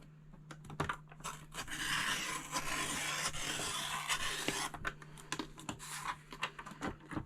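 A decorative paper trimmer slices across craft paper, giving a raspy, scraping cut that lasts several seconds, set between lighter clicks and taps from handling, close and moderately loud with no talking.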